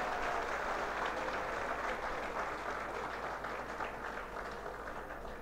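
An audience applauds at an Indian Potash Limited inauguration ceremony, a faint, steady wash of clapping heard from a distance that holds for several seconds without pause.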